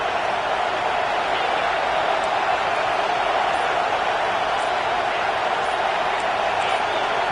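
A stadium crowd at a Penn State versus Florida State college football game roars in a dense, unbroken wall of noise that stays loud and constant throughout.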